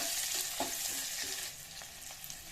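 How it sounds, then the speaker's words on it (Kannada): Chopped onion and curry leaves fry in a pan with a continuous close sizzle and occasional stirring scrapes, no voices. "ನಂತರ ಈರುಳ್ಳಿ ಹಾಕ್ತಾ ಫ್ರೈ ಮಾಡ್ಕೊಳ್ಳಿ"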